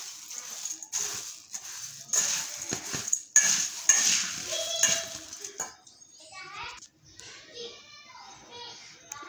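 Puffed rice being stirred with salt in a bowl, with light dry scraping and clinking in short bursts through the first half, then quieter background sounds.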